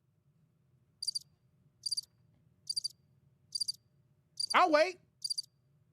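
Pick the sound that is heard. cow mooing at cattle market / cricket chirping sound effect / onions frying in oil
cricket chirping sound effect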